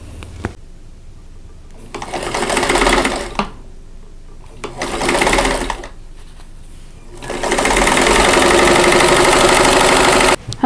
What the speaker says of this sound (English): I'm going to chain piece these together to make things go a little faster.